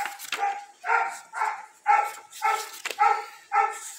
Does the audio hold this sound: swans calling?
no